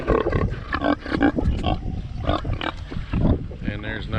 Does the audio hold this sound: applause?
no